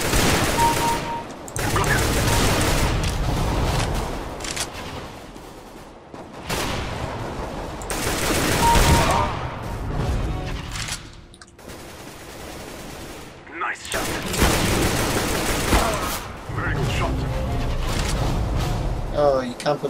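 Counter-Strike gunfire, including sniper and automatic weapons, comes in dense, loud bursts and rapid rattling volleys separated by short pauses, with a voice talking over parts of it.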